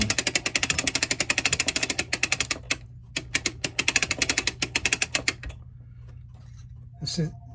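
Rapid, evenly spaced ratchet clicks come close and loud as a clock mainspring is wound on a Webster mainspring winder, pausing briefly mid-way, then resuming before trailing off into quiet handling noises.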